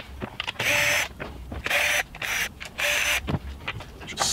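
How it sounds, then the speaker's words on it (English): A power driver whirs in short repeated bursts, removing bolts from the starter cover of a Stihl chainsaw, four or five close mechanical whines with clicks between them. "So we'll get started by removing the four bolts that hold this in place."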